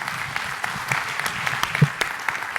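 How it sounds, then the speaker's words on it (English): Steady applause from an investment conference audience, dense overlapping claps at moderate volume with a few sharper individual claps standing out over the brief stretch. "If you would all please join me, a round of applause for"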